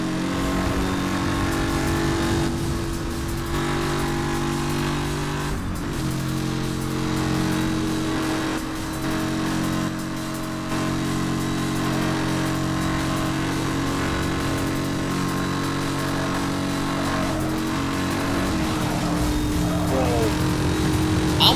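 In Need for Speed Hot Pursuit, a supercar engine drones steadily and loudly at high revs for the whole stretch, shifting pitch slightly as it accelerates, with a voice faintly underneath.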